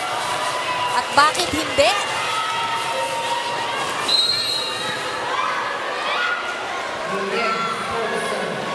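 Crowd at a volleyball match in the Marikina Sports Center arena, a steady background roar of cheering and shouting with whistles and shoe squeaks, under continuous commentary and nearby talk.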